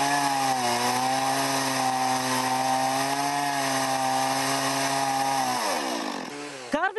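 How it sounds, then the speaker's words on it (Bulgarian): A chainsaw carving a wooden sculpture runs steadily and loudly close by, its engine holding a constant pitch for several seconds before winding down and sputtering near the end. "Може би вече чувате шума на резачката."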